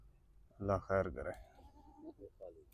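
A Barbari goat bleats loudly twice in quick succession up close, followed by softer vocal sounds and brief talking.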